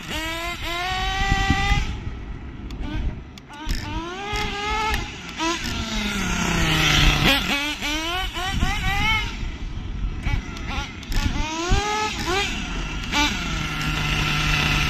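Small nitro RC car engine being carburetor-tuned: loud, close high-pitched buzzing that repeatedly revs up and drops back in rising sweeps, with brief pauses between bursts.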